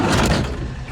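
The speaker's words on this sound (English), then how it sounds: "Door shuts a little hard," An excavator cab door shuts hard with one loud, broadband slam that decays over about a second, heard up close.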